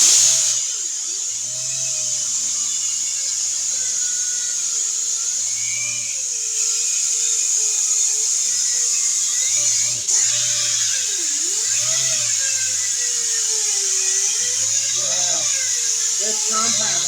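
An electric buffer polishes a car headlight with a continuous, high, whirring whine that dips and rises as pressure changes. People talk over it throughout.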